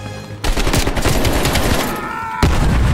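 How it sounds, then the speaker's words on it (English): Dense, continuous heavy gunfire in Call of Duty: Black Ops Cold War's campaign, loud and close, with overlapping automatic bursts and explosions and a sharp fresh volley near the end. "Still under heavy fire"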